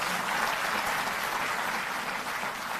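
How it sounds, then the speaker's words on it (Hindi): An audience at a Delhi government event applauds, a steady, dense patter of clapping heard from a moderate distance, with no voices over it. "सभी लोग जोरदार तालियों से अपना सहयोग देंगे"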